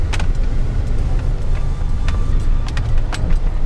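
A car accelerating on a loose surface to spin figure-eights, a loud close engine rumble with scattered sharp ticks and crackles from the tires and gravel, no talk.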